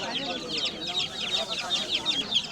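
A flock of all-black chickens clucks and chirps nonstop nearby at the Fatullah bird market, with many overlapping calls and a steady hum underneath.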